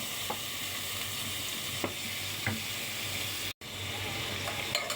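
Onions frying in oil for a chicken bhorta, a steady close sizzle with occasional spoon scrapes and stirs across the pan, continuous and even, briefly cutting out for a moment before resuming.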